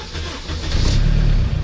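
A Honda S2000 engine runs close by, a rough idle that swells into a louder, deeper rev and holds there before easing slightly.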